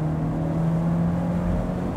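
A 2021 Hyundai Elantra with a CVT accelerating, heard from inside as a steady, droning engine hum with a sustained even tone, no talk over it.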